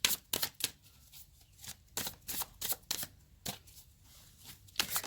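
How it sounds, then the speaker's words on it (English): Tarot cards being shuffled by hand, a series of quick riffling bursts with short pauses between them, close and fairly loud, with no talking. "Sorry if you can't see me shuffling it."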